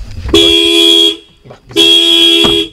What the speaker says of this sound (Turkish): Çılgın gibi kornaya basıyor.